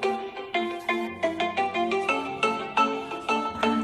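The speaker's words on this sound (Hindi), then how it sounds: "आप देखिए कॉल भी आ चुका है और रिंगिंग हो रहा है" A smartphone ringtone plays on an incoming call through the ODialer app, a bright repeating melodic pattern of short tones in a steady rhythm, loud and close with no talk.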